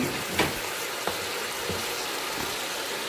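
Tomato paste and onions simmer with a splash of added water, giving a soft, steady sizzle with a few faint clicks and stirring knocks and no voices.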